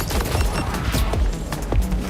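Dense rapid-fire gunfire from the looter-shooter Borderlands 4, loud bursts of shots and explosive booms in close succession during fast-moving combat.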